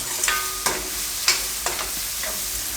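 Sev and galka (sponge gourd) curry being mixed in hot oil in a pan, a steady sizzle broken by a few sharp spoon scrapes and knocks at a close, even pace, no talking.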